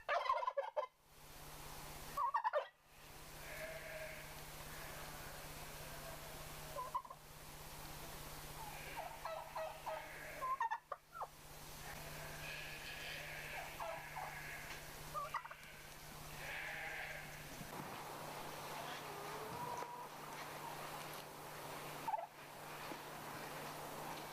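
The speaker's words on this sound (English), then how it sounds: "In the foreground here is a turkey hen, while a male turkey spreads its tail in the background." Male and female turkeys gobble in repeated bursts, faint and somewhat distant, over a steady low hum with scattered bird calls between.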